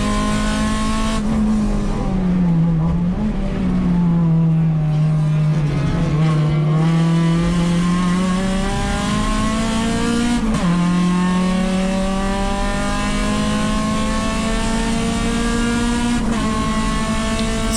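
Acura RSX race car engine at Laguna Seca during a USTCC race on Indy Car weekend, a loud sustained onboard drone rising and falling through gear changes, with brief dips at shifts and continuous revving throughout.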